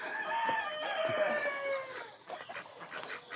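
Chickens on a chicken farm in Bethel, Connecticut, crowing in long drawn-out calls with clucking mixed in, a busy flock heard close with scattered rustling.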